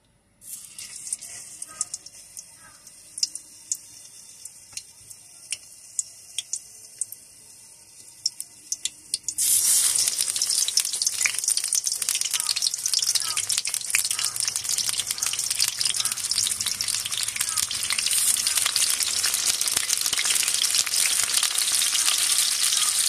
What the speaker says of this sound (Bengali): এখন আমি পটলগুলো ভেজে নিব।